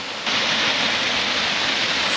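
The Moss Cave waterfall roars in a steady, loud broadband rush that begins abruptly and stays constant, with no talking.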